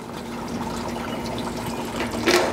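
Liquid is poured out of a DynaTrap insect trap in a steady splashing stream for a few seconds, with a brief louder gush near the end and no talking.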